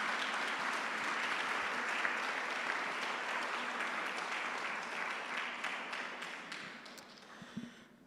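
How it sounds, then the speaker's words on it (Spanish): A church congregation applauds steadily for several seconds, a dense, continuous clapping that fills the room and tapers slightly toward the end. "Si ese aplauso fue para el Señor, dáselo fuerte al Rey de Reyes y Señor de Señores"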